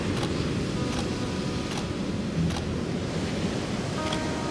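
Ocean waves break on a beach behind an outdoor photo shoot, a steady, full wash of surf with a faint periodic ticking on top and no voices.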